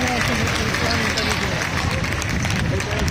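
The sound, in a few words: audience applauding at a rally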